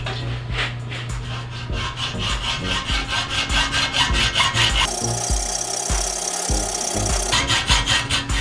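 A hand saw cuts vertically through a metal belt guard clamped in a vise, with loud, steady, rhythmic back-and-forth rasping strokes up close, shifting to a harsher, brighter scrape partway through.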